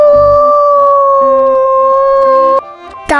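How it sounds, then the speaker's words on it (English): A wolf lets out one long, steady howl, loud and close, holding a sustained pure tone for over two seconds before cutting off with a sharp, short yelp at the end. "Wolf."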